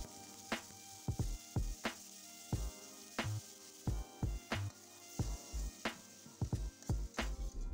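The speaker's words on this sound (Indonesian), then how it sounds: "Jadi aku mau goreng lagi untuk temennya makan sama ayam goreng tadi." Leftover sambal frying in a pan in a simple home kitchen: a steady, faint sizzle runs beneath a string of sharp, irregular knocks and scrapes of a utensil against the pan. No one speaks.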